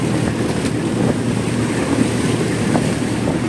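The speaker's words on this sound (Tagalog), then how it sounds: "Ito lang, malakas yung alon." Rough sea noise with wind buffeting the microphone and a low boat rumble, waves churning continuously and close by.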